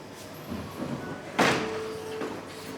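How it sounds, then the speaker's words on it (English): A sliding bathroom door in a jacuzzi-equipped resort room in Pattaya is pushed shut, giving one sharp close-range thud with a brief rattle and short ring, over a faint room hum. "The door also can be closed."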